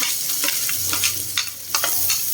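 Garlic and onion sauté in a hot pan with oil for pork binagoongan, a steady close sizzle broken by several scraping stirs of a spatula, with no voices.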